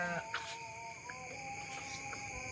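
Goats bleat from a pen near a village at night, a faint, distant bleat over a steady chorus of crickets.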